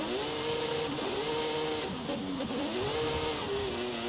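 Turbocharged car engine in the Forza Horizon 5 racing game, held high in the revs while drifting, a loud continuous whine that rises and dips with throttle changes, with no talk over it.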